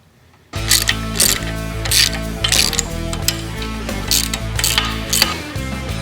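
After a brief quiet start, a ratchet clicks loudly and rapidly in bursts, tightening flange lock nuts on U-bolts while a Jeep Wrangler JL suspension lift kit is installed.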